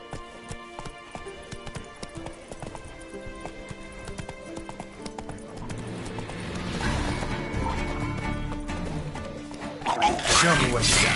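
A horse gallops in the video game The Witcher, with quick hoof clip-clops at first, building into a louder rumbling run with a whinny near the end, while a voice talks over it.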